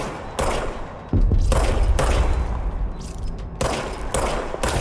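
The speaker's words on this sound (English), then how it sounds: "Okay, now I have a gun." Loud bursts of gunfire from a weapon in the video game Control, several heavy volleys with short gaps between them, with booming low impacts running through the middle of the clip.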